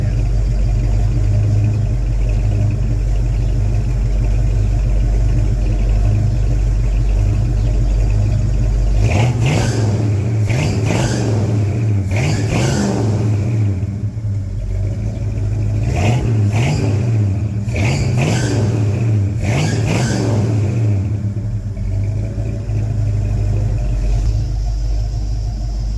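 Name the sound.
classic car engine running and revving, heard from rear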